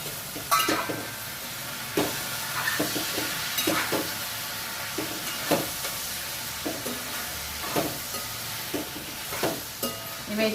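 Ivy gourd (tindora) fries in oil with a soft continuous sizzle, punctuated by irregular scraping knocks of a spoon stirring it in the pan, close and moderately loud.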